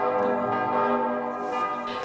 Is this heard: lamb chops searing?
no